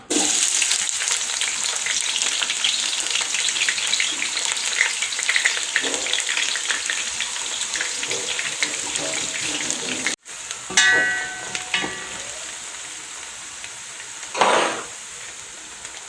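Chopped onions fry in hot oil in a single pot for vegetable rice, a steady bright sizzle with occasional stirring scrapes, then a brief break before the frying resumes with clatters.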